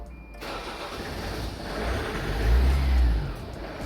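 A 2009 Toyota Corolla Verso with a newly replaced starter motor cranks briefly and catches, its engine rising into a low rumbling idle with a swell of revs, close and loud.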